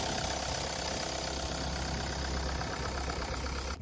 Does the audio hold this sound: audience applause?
no